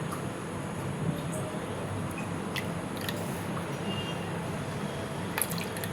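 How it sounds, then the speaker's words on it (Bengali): Water poured into a cat's food, heard as a steady liquid trickle with faint drips throughout, fairly close and continuous, with no talking. "আরেকটু পানি দেবো।"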